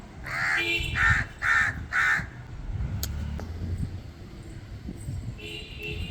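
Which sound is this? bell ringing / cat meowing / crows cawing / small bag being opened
crows cawing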